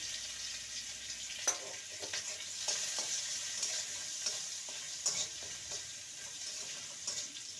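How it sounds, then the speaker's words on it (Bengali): Grated ginger and chopped green chili fry in a pan while being stirred, a steady soft sizzle with light scraping taps from the spatula, no talking. "আদাটাকে ভালো করে নেড়ে নিতে হবে যাতে করে আদার কাঁচা গন্ধটা না থাকে"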